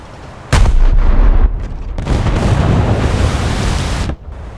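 A naval gun aboard the USS Trenton fires in the War Thunder video game, a loud booming blast followed by a sustained roaring rumble that cuts off abruptly, with a second heavy swell of sound midway, no talking.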